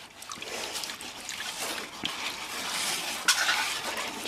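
Cleaning granules swirled by hand in a basin of cold water, a steady gritty stirring and trickling close up with light splashes, no voices.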